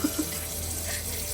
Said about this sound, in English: we're just gonna kind of plop it into our hands and then rinse it with very cold water